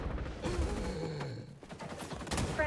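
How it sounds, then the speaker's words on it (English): A light machine gun fires in a video game in rapid continuous bursts under a steady mix of game noise. The rattle is dense and fairly loud, with a brief dip midway. "I should not have used the LMG on this map"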